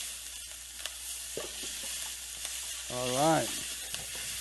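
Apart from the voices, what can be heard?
mushrooms sizzling in oil in a pan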